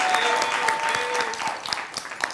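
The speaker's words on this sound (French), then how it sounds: "Les applaudissements Ah, de tout le monde en studio." Studio audience applauding on a French-language Quebec talk show, a steady burst of clapping lasting a couple of seconds with a faint voice or two mixed in near the end.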